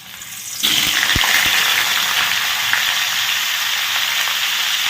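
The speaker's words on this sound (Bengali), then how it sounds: "আমার ভালো করে গরম হয়ে গেছে তেল আর ঘিটা আমি এর মধ্যে ভাপিয়ে রাখা ফুলকপিটা দিয়ে দিচ্ছি একে একে" Steamed cauliflower pieces drop into hot oil and ghee, setting off a loud, steady sizzle after a quieter start, with a few sharp pops and spits as the frying goes on.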